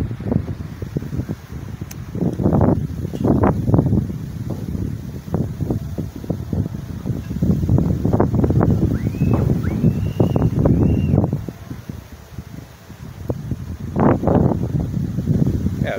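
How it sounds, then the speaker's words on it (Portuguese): Strong gusty wind roars steadily through a storm with rain and thunder beside a river, buffeting the microphone loudly and without pause for the whole stretch. "Olha, você pode observar como o vento está, né? Venta muito."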